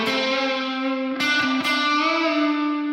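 Distorted electric guitar chords played through an Aurora DSP Rhino amp simulator set to the flat power amp, sustained harmonically rich tones with a couple of chord changes, loud and clear with no talk.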